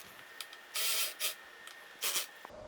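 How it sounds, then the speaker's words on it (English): End cap screws are tightened on a LiFePO4 battery cell box in a few short, whirring mechanical bursts against quiet background, with one longer burst and two brief ones. "Now I'm gonna tighten these end cap screws just like we did on the last battery to put a little bit of compression on this."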